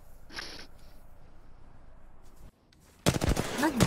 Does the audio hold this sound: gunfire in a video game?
yes